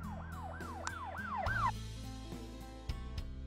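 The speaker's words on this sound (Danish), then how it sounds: "Lidt efter hører jeg sirener." A wailing siren sweeps up and down in quick repeated cycles, then cuts off, leaving traffic-like rumble and a few knocks.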